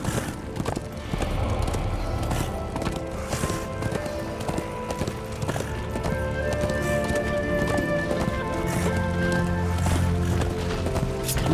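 A horse in the video game Darksiders 2 gallops with quick, rhythmic hoofbeats over game music and ambience, loud and continuous throughout.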